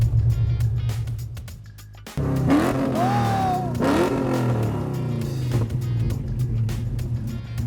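An Oldsmobile Cutlass drives and revs at a King of the Mountain event, its engine note loud and steady with rising rev sweeps after a brief dip, no talk over it.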